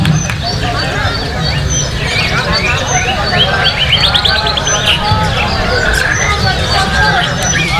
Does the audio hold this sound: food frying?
no